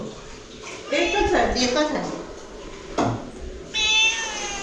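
A cat meows several times, drawn-out and fairly close, indoors at a neighbour's home, with people talking around and between the meows.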